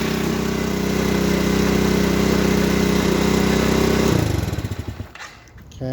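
Close by, the single-cylinder engine of an Xpro BD125-2 125cc café motorcycle idles evenly with a light mower-like chatter for about four seconds, then shuts off and sputters out into near quiet, leaving a few faint clicks.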